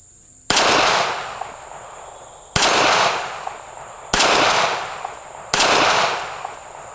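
Four loud, sharp pistol shots from a Smith and Wesson Bodyguard 380 at an outdoor range, spaced unevenly a second or two apart, each with a short echoing decay.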